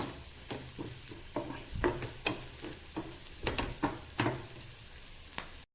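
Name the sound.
onions frying with salt in a pan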